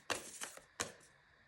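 A deck of cards being shuffled at a quiet tabletop reading, three short crisp riffling bursts close to the listener, the last one sharpest, with near silence between.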